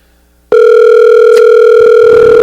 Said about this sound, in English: Perhaps Ethan's just having a beer before he answers the phone